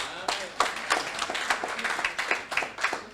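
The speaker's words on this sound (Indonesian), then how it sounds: "Mari sekali lagi kita beri tepuk tangan buat Tuhan." A church congregation claps in a steady, moderately fast rhythm, each clap distinct and fairly close, continuing for a few seconds with voices faintly underneath.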